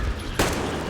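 A single sharp gunshot cracks out from a gun in the video game Metro Exodus, loud and close, standing alone against steady background noise.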